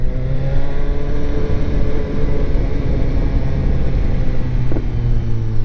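A car engine revs hard and close up while the clutch is worked, producing a loud continuous roar with rising and falling pitch and a brief dip before the revs pick up again, with no voices over it.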